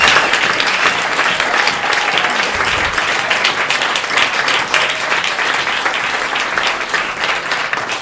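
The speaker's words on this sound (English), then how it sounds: "Let's have a round of applause for everything that happened." A concert audience gives musicians a round of applause, dense, steady clapping that fills the whole stretch at close range, with a few voices lost in the noise.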